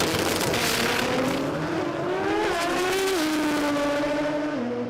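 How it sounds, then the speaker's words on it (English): The Sup G Mazda RX7 drag car screams down the strip at the Garrett Adelaide Jamboree, its rotary engine wailing loud and high, climbing through stepped gear changes over a run of about five seconds with no voices. "So this is the Sup G RX7."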